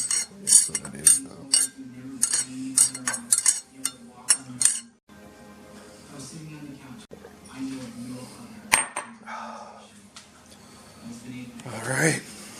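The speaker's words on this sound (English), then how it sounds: "I'm really stirring this with butter knife." A butter knife stirs in a container with repeated quick metallic clinks and scrapes, near and clear, while someone talks over much of it.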